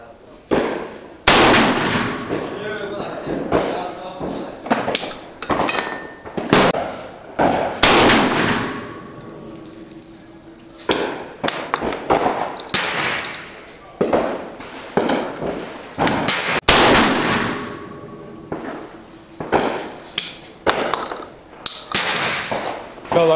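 Black powder gunshots from a Svarog Botfly at a shooting range: a string of loud, sharp cracks at irregular intervals, each with a booming echo tail, over about twenty seconds.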